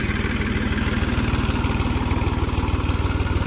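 A tractor engine idles steadily at 700 RPM nearby, a loud, even low chugging throb with no change in pace.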